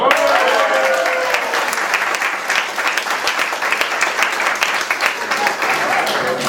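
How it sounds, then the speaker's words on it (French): Loud, sustained applause from a show audience fills the whole stretch, dense clapping that stays steady throughout, with voices faintly mixed in. "première épreuve, applaudissements du public."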